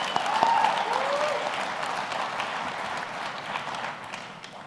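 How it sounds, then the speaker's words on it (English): Applause from an audience at a corporate awards event fills the room in a dense, continuous wash of clapping that starts strong and then tapers slightly. A brief voice or whistle cuts through near the start. "Give yourselves one more round of applause for your resiliency in 2023."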